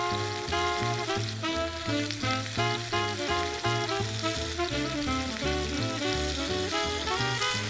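A pork chop sizzles in hot extra virgin olive oil in a pan over medium heat, a continuous loud frying crackle running under rhythmic music throughout.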